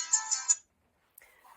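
A smartwatch rings for an incoming phone call, three quick bright chime pulses in a short burst, then silence before a faint voice begins.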